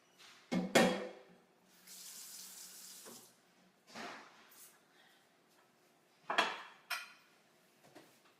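Water poured into a baking dish before it goes in the oven, with knocks of dishes and clatter around a kitchen sink, a short splash in the middle and louder clunks at the start and near the end.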